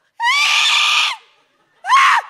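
A person imitates a scream with a high, strained vocal shriek, loud and close, in one sustained burst followed by a brief silence and a second shorter cry.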